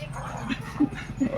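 Dog giving three short, soft whimpering yelps at an even pace, close by, over a low murmur of background noise.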